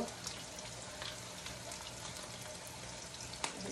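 Onions frying in a pan with a little salt added, a steady close hiss and crackle of sizzling oil holding at an even level throughout with no speech.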